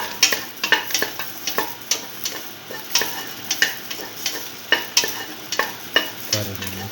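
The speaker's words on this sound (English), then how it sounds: "Thoroughly mix the green chili to the rest of the mixture. Keep on sauteing." Green chili is stirred into a sauteing beef and okra stew mixture, a steady sizzle broken by rhythmic scraping strokes of a spoon against the pan, close and fairly loud with no voices.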